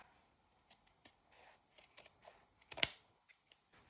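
Scissors cut fabric to length from a fabric snippet roll: a few soft, scattered snips and rustles, then one louder, longer cutting stroke close by, followed by quiet.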